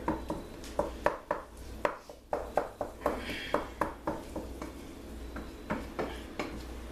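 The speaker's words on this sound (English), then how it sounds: "Stir it around, and even though it looks brown, I'm still going to cook it" Hamburger meat being stirred in a pan, with a utensil scraping and clacking against the metal in a steady run of sharp, fairly close knocks over a faint cooking background.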